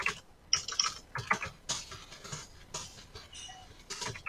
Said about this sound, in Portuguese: É que eu estou digitando